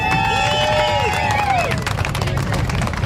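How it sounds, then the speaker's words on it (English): Crowd clapping and cheering at a live show, a busy roar of hands and voices with rising whoops and whistles over the first half, then settling into a thinner murmur of applause. "a huge round of applause for this little guy, please"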